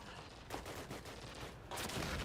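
Gunfire in the Call of Duty World War II video game: dense overlapping shots and bursts crackle steadily throughout, growing louder near the end, with no voices.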